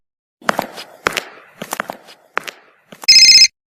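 A telephone rings once in a short, loud electronic burst near the end, following a few soft knocks and footstep-like thuds in a quiet room.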